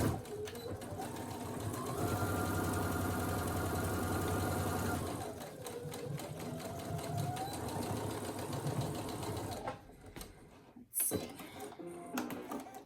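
SE1900 embroidery machine stitching a Christmas stocking, a loud steady mechanical whir running continuously, then stopping near the end, followed by a few handling clunks.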